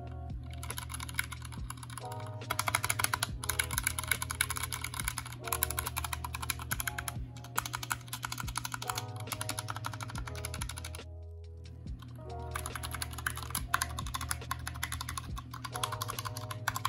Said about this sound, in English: here's a little bonus clip of the keyboard itself